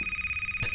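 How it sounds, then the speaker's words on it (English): A video game telephone rings with a steady electronic trill, about a dozen rapid pulses repeating evenly, before a brief low thump near the end. "Shut up, phone!"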